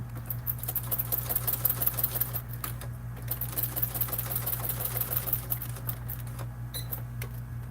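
A sewing machine stitches up the side of a fabric bag, a close, steady, rapid whirring rhythm of stitches with brief pauses, heard alone over a low hum.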